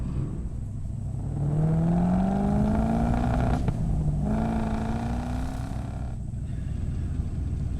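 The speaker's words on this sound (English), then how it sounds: "a cruise in the 1969 Boss 429 Mustang" A 1969 Ford Mustang Boss 429 on the road, its V8 engine droning steadily and rising in pitch twice as it accelerates through the gears, close and loud with no talking.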